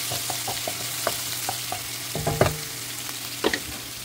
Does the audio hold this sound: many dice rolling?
no